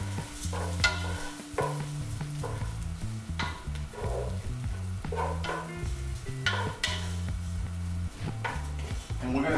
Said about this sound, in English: Now we're going to add in the rice.